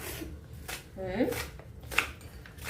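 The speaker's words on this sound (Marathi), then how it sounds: "छान अशी कोथिंबीर बारीक चिरून घ्यायची मस्त" Knife finely chopping fresh coriander leaves on a board in a home kitchen, a few quick soft taps and rubbing strokes under a voice speaking.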